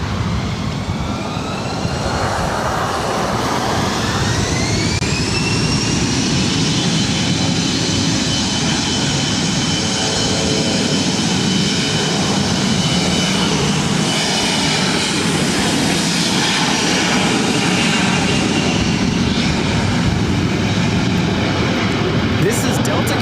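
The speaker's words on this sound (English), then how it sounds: "3842 taking off to San Jose, California on an E175." Delta Connection Embraer E175 jet taking off from runway 24 right at LAX, a loud sustained engine roar with rising turbine whine as it spools up and accelerates, steady and close for over twenty seconds.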